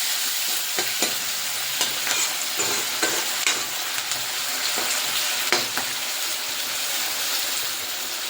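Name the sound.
tomatoes being stirred in frying pan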